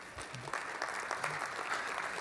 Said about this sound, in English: Can we just take a minute here and give a round of applause here?